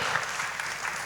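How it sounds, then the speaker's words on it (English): Classroom students give a brief round of applause, a steady wash of clapping heard faintly from a distance and lasting only a moment. "Please give a big round of applause."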